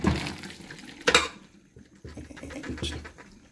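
Cooked noodles and hot water tipped into a kitchen colander for a laksa, a close watery rush and splash with a clatter, then lighter dribbling and handling noises.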